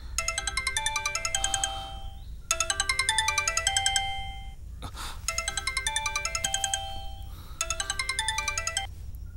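A phone ringtone plays a bright, melodic tune in four repeated bursts separated by short gaps, clear and fairly close, with no one speaking.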